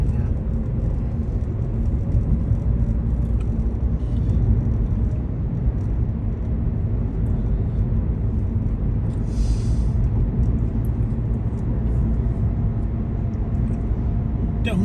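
A small car cruising on the Sam Houston Toll Road, its engine and tire rumble steady and close throughout, with low road roar dominating and a brief passing whoosh midway.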